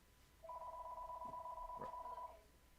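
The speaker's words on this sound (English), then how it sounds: "Riley's going to answer the phone" A telephone rings once in a podcast studio, a clean two-tone electronic trill lasting about two seconds, fairly quiet and alone.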